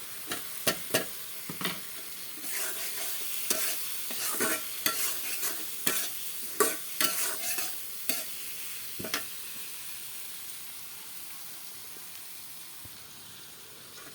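Shing fish goes into a pan with ground onion paste and is stirred, giving a run of sharp spatula scrapes and clatters over a soft sizzle, with the strokes thinning out and fading after the first few seconds.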